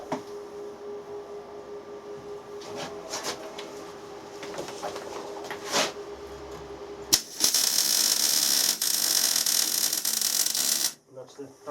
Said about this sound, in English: That's the happy MIG welder noise.